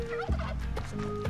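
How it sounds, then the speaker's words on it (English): Repeated turkey gobbling from the video game Spelunky 2, a burst of warbling gobbles that fills the short clip, loud and close with no talk. "It's okay, we got turkeys."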